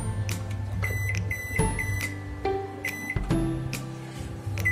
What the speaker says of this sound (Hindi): हम इसमें माइक्रोवेव में माइक्रो मोड पे 4 मिनट के लिए इसे माइक्रो करेंगे।